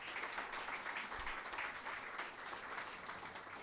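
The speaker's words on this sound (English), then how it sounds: "So a good round of applause for him." Distant, faint applause from an audience at a SaaS business event, a continuous even patter of many hands with no voices on top.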